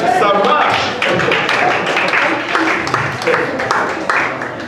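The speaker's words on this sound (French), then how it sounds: "Nous pouvons l'applaudir." A church congregation applauds a speaker with a quick patter of many hands clapping throughout, while voices call out over the claps.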